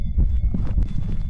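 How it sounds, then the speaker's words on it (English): A heartbeat in the video game Phasmophobia, a short burst of low, throbbing thumps that is loud and close and has no talk over it. "Heartbeat."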